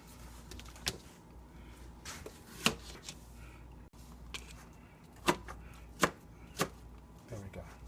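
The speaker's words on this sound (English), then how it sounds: "After you're done peeling it, you're going to chop it up." Sharp knife chops on a cutting board as zucchini is cut up, scattered irregular thuds close by over a quiet kitchen background, no talk during the chopping.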